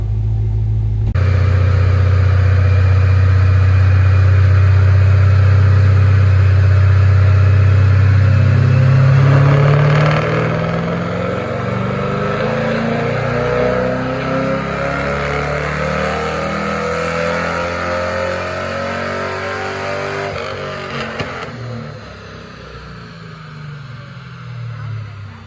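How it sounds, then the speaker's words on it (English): A Pontiac G8 sedan engine running on a dyno, a deep loud rumble that builds as the revs rise, then an upward-sweeping roar that holds and slowly eases off over about twenty seconds, close and continuous. "Since it's a sedan, I'm gonna sit in it while he dynos it."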